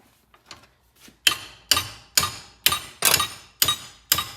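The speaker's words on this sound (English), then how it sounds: "as soon as you hit that casing, that'll just..." Eight sharp metallic hammer blows strike a seized engine casing from a 2017 Citroën Berlingo, evenly spaced and ringing briefly after faint taps, close and alone without talk.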